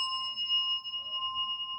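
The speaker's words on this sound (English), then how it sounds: "Doan rings another bell." A Zen ceremony bell rung once, sustaining a steady bright ringing tone with overtones throughout, fairly quiet with a faint low background rumble and no talk.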